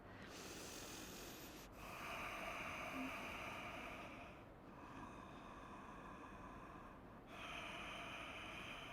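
Slow, steady breathing during a glute stretch, with long airy inhales and exhales heard close and quiet, and no talking.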